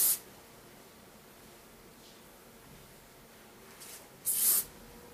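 Short hisses of hairspray sprayed onto hair to set the hairline of a teased bun, with a spray at the start and a stronger burst near the end, separated by quiet room noise.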